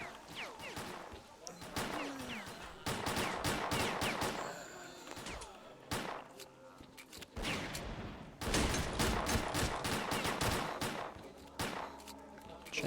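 Repeated PM pistol gunshots in S.T.A.L.K.E.R.: Clear Sky, sharp cracks fired in quick bursts and single shots over a steady game ambience, some volleys dense and overlapping, no voices.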